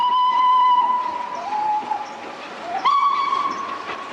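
Preserved steam locomotive 46443, a class 2MT tender engine on the Severn Valley Railway, sounds its whistle in two long sustained blasts with a gap between, the pitch dipping and sagging as the first fades, over a background hiss of steam.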